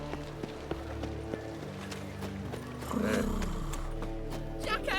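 Horse hooves galloping in The Witcher 3, a steady quick clip-clop under ambient game sound, growing louder and closer near the end, with a voice speaking briefly.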